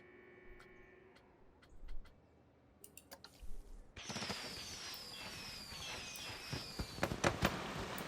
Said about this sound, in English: Just a really good fireworks show that goes off every night.